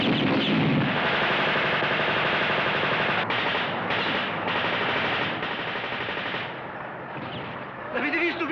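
Heavy, continuous machine-gun fire rattles close and loud in a 1964 Italian war film about World War II, with shouting voices heard over the shooting.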